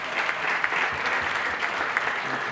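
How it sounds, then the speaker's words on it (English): Audience applause for a guest at a YouTuber meet-up event, a dense, steady wash of many hands clapping together with no pauses, fairly loud and close, with no one speaking over it. "Please, a round of applause for him."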